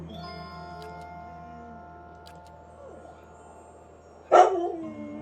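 A dog gives a single sharp bark close by, followed by a short whine, breaking into an otherwise quiet room with faint background music.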